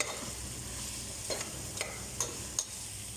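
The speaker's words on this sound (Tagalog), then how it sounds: "hinalo-halo ko muna yung long beans kasi medyo matagal maluto ang long beans" Long beans stirred and sautéed in a pan with garlic and onion for a vegetable dinengdeng, four soft scraping strokes over a quiet, steady sizzle.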